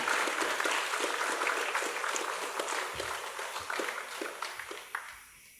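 An audience at a Welsh talent search applauds as a contestant walks to the front, fairly distant clapping that starts full and gradually thins and fades, with a few scattered claps near the end.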